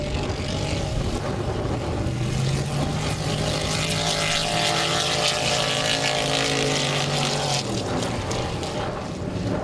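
A 550 horsepower modified race car roars continuously at full throttle, a loud sustained engine drone with shifting pitch that dips slightly near the end, with no voices over it.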